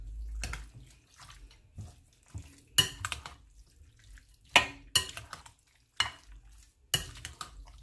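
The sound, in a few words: stirring seasoned popcorn chicken breast in a bowl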